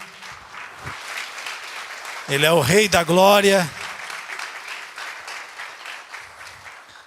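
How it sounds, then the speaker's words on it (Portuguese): A church congregation applauds during worship, the clapping bright and steady throughout while a voice sings a short, wavering phrase over it in the middle. "Vamos aplaudir ao Senhor."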